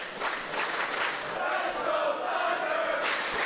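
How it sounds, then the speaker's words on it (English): A wrestling arena crowd at an All Star Wrestling show roars and applauds for a wrestler, a thick continuous wash of cheering and clapping that holds steady and loud throughout, with a brief surge near the end. "round of applause and ovation for Thunder"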